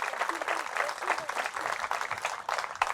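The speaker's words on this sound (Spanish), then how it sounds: "Fuertes aplausos a Jesús de Nazaret por su amor y su misericordia" A church congregation applauds in praise during a Catholic priest's sermon, a steady wash of many hands clapping close and continuous for the whole stretch, with no voices standing out.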